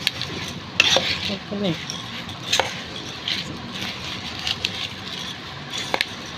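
Bhel puri ingredients with chopped tomato and onion being mixed in a bowl, a steady close scraping and stirring with occasional sharp clinks of a spoon against the dish.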